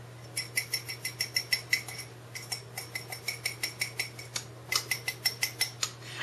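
A spoon scrapes around the inside of a yogurt container in quick repeated strokes, a light plastic clicking and scraping that comes in two bursts with a short pause between them.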